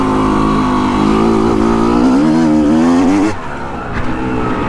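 A dirt bike engine revs hard on a fast, flowing Colorado trail, its pitch climbing and wavering loudly before cutting back sharply near the end to a lower idle-like drone.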